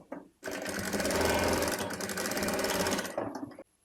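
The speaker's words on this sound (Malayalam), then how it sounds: "ഇതിൻ്റെ അരികു വശങ്ങളൊക്കെ ഒന്ന് ഫോൾഡ് ചെയ്ത് സ്റ്റിച്ച് ചെയ്തെടുക്കാം കേട്ടോ" A sewing machine runs a fast, loud, steady whir as it stitches the folded edges of fabric for a baby's yoke pleated frock, starting after a short pause and stopping just before the end.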